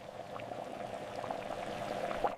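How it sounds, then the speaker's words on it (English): Sugar, honey and corn syrup boiling in a heavy saucepan on medium heat, a steady close bubbling hiss with small pops, unstirred, with no talk. "Let it boil for exactly 2 minutes."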